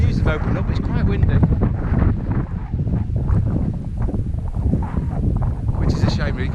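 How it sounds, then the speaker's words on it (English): Strong gusts buffet a microphone on a windy fell ridge in the Lake District, a constant low roar under faint voices throughout. "It's quite windy"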